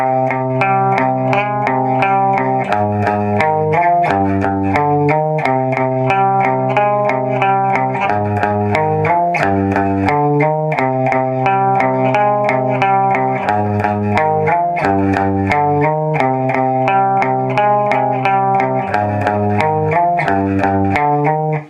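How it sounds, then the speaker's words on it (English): Distorted electric guitar with auto-wah filter sweep plays a steady chord progression, loud and continuous, with echo and chorus-like effects throughout. "there's distortion on it, and the auto wah is on as well."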